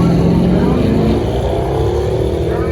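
A drag race car at a Sick Summer 2024 drag-and-drive event roars at a loud, steady pitch throughout its burnout, close and continuous with no break, likely with faint voices buried in the engine noise.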